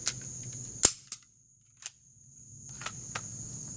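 A Smith & Wesson Shield pistol's slide is racked, giving a sharp metallic snap followed by a few lighter clicks and a softer clack, close and crisp against a quiet room.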